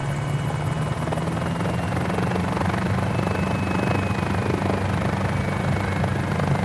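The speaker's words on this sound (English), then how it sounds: "Once your RPM is normalised, then you can hear happy helicopter sounds" A small Mini 500 helicopter engine and rotor run steadily at normal RPM, a loud, even drone with a constant rotor beat that holds unchanged throughout, with no talk.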